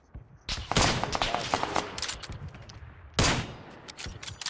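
Video game gunfire as a squad shoots at bots, coming in sharp bursts of rapid shots, loud and close, with a quieter gap before a second heavy volley.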